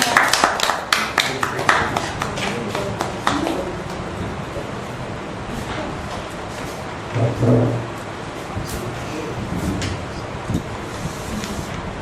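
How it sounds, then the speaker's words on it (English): Audience applause at a Toastmasters club meeting in Metro Dagupan: sharp claps open the moment, then thin out into scattered, fainter handclaps over room noise and a brief voice. "a warm round of applause for Toastmasters"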